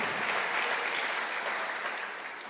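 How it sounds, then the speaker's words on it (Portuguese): Church congregation applauding during a worship service, a dense, loud sustained clapping that tapers slightly at the end, with no talk over it. "Se você crê, se expresse e aplauda ao Senhor."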